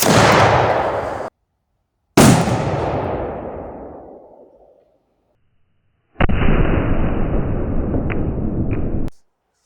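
A gun is fired at a piece of armour: two sharp, loud blasts, each with a long fading echo, followed by a few seconds of steady, harsh noise with small pops, no talking.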